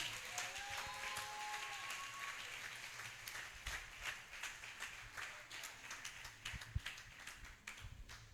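A church congregation claps for Jesus, loose scattered applause of many hands building into a rhythmic patter, moderately close, with brief voices at the start.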